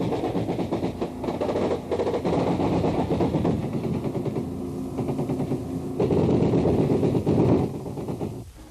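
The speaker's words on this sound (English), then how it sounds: "The bark of Chinese Communist AK-47s comes from the left bank." Vietnam war gunfire from Chinese Communist AK-47s on a riverbank with B-40 rockets, a dense, loud, continuous rattle of shots under engine-like rumble, swelling louder near the end.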